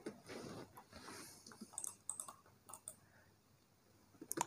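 Mouse clicks while erasing objects in AutoCAD on a computer, a scattering of brief, quiet clicks spread over several seconds at close range, with no speech.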